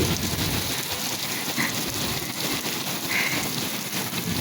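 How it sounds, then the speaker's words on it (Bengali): Heavy rain pours steadily during a thunderstorm, a dense, constant hiss of drops beating on surfaces with no pause, loud and close throughout. "দেখেন কি জোরে বৃষ্টি হচ্ছে,"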